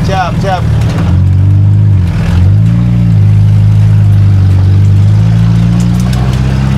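A Toyota AE86 drifting, its engine revving hard and loud close by, the pitch swooping up and down before settling into a sustained high drone, with brief voices at the start.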